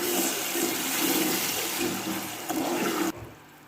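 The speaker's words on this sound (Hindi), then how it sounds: "4 से 5 चम्मच जो है हमने पानी के डालने हैं" Water pouring into a pan to make sugar syrup for sweet pasta, a loud steady rushing pour that stops abruptly near the end, heard alone without talk.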